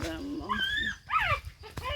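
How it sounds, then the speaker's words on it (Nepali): Village dogs yelp and whine close by at night, a few brief, high, wavering cries packed into two seconds. "अब कुकुरको रमझम कहिलेसम्म हुन्छ रातभरि कराएको छ"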